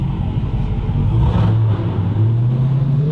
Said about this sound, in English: when I'm at the red light, rev that bitch from park